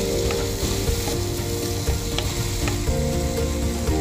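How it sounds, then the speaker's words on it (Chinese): Lima beans stir-fried in a wok with chili, scallion, garlic, carrot and green pepper sizzle loudly and steadily, with occasional scraping taps of a spatula against the pan. "主角黄地豆全倒进去，优雅的拌炒一下"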